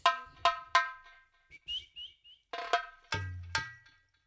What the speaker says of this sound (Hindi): सर आप सीटी क्यों मार रहे हो?